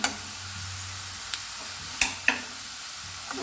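Panch phoron spices sizzle in hot mustard oil with a constant fine hiss, broken by a few sharp ticks and pops from the seeds and utensil.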